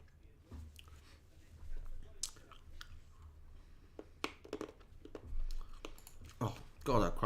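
Close-up chewing of crunchy Refreshers sweets, irregular sharp crunches and bites near the mouth, quiet with soft breathing and brief murmurs in between.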